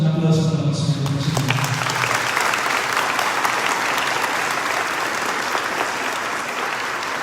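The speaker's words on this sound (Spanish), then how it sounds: "Un aplauso para los señores." A congregation at a Saturday Catholic Mass applauds the men, with dense, steady clapping that fills the space and stays level after a brief spoken lead-in.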